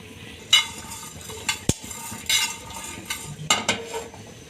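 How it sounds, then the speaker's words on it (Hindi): Whole spices dry roasting in a pan over low heat, with a spoon scraping and clinking against the metal in irregular close strokes over a faint crackle. "हल्की आंच पे ड्राई रोस्ट करें।"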